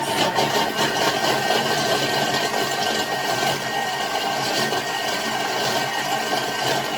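A Thermomix TM6 kitchen machine runs at speed 6 while mixing chocolate mousse, giving a loud, steady motor whir with a fine rattling buzz that holds evenly throughout, with no talking.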